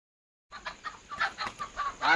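A village rooster gives a rapid series of clucks and short crowing calls, rhythmic and fairly close, starting abruptly after a brief silence with no one talking.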